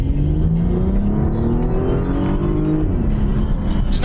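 A Porsche Panamera accelerates hard, its engine note rising loud and close in a continuous surging roar.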